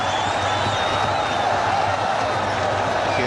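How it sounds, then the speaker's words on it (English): A cricket crowd cheers and claps after a boundary, a steady, broad roar of noise from a large stadium audience. "Rank long hop, and that's brought the crowd alive."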